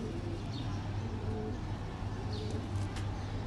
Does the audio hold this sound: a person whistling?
no